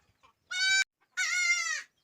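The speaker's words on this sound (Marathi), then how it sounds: "ह्या बघा ह्या माझ्या कोंबड्या येतात ह्या दोन कोंबड्या येतात" Two domestic village hens call out nearby: a short squawk, a brief pause, then a longer drawn-out cackle, with quiet surroundings and no speech.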